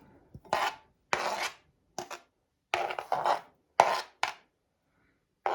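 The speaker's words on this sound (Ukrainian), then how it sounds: "Третій зараз поріжу. Порізала ще третій огірок." A knife slices through a cucumber in short separate strokes, each a crisp rasping cut followed by silence, close and fairly quiet.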